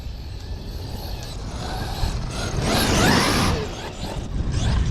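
A Traxxas XRT RC truck runs with a whirring electric drivetrain and servo noise, rising in a louder whooshing surge mid-clip before dropping back, no talk over it.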